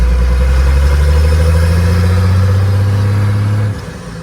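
A pickup truck fitted with a 12v Cummins diesel engine and a five-speed manual transmission drones steadily and loudly from inside the cab, holding a constant pitch before the engine note drops sharply near the end as it shifts gears.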